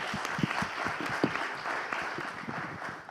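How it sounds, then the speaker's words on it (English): Audience applause for panelists at an innovation districts forum, a steady wash of many hands clapping with a few sharper nearby claps, sustained for the whole stretch. "let's give a round of applause to our panelists"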